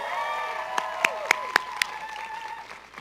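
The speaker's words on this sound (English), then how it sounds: "So a round of applause." Applause from a commencement audience at a medical school graduation, moderately distant and steady, with a few sharp individual claps standing out and faint voices mixed in.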